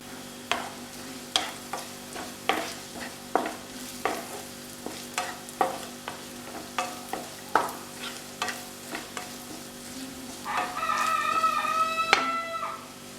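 Crushed chillies are tempered in a pan in a village kitchen, with a steady rhythm of sharp spoon-scraping stirs over a light sizzle that swells into louder, crackling frying near the end.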